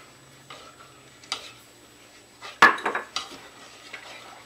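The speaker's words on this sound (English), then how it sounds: "and I'm stirring" Cornmeal porridge with milk and cinnamon sticks being stirred in a pot, a few sparse spoon knocks and scrapes against the metal, one sharper clack in the middle.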